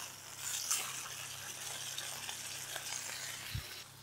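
A cod fillet fries in a pan with a steady close sizzle and crackle, joined by a few soft clinks and a dull knock near the end.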